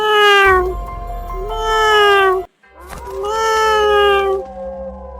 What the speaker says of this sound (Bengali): দেখ একটা বিড়াল